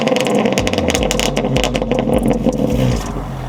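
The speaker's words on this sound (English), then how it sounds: "So this is take number 2 exhaust revs of my car" Modded BMW M2 Competition exhaust revving hard and close, with repeated sharp blips rising and falling in quick succession, loud and alone with no talking.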